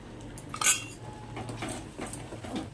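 A spoon stirs amla (Indian gooseberry) pickle in a pan, giving one sharp metallic clink and then softer scraping and clatter, close and fairly quiet.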